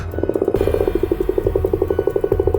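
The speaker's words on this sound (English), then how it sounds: "It opened its wide mouth and let out a loud croak." A frog croaks in a rapid, pulsing series of loud, close calls, with no other sounds around it.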